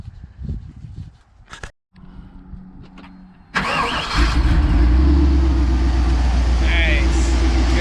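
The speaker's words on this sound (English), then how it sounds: "Can't believe it actually started up on its own." A small-block Chevy engine in an Isuzu NPR ramp truck with around 240,000 on it cranks briefly after some clunks and handling noises, then catches and settles into a loud, steady, rumbling idle close by.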